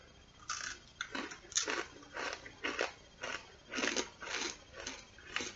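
Repeated crunchy bites and chewing of a dry Vea Peruvian sweet potato mini crunch bar, close up, in quick irregular bursts with no talking.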